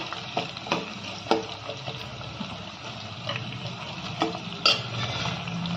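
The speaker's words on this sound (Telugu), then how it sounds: "తాలింపు ఎప్పుడు ఎర్రగా వేగితే బాగా టేస్ట్ అమ్మా" Tempering spices sizzle in oil for a tamarind leaf dal, a steady close frying hiss broken by frequent sharp clinks and scrapes of stirring against the pan.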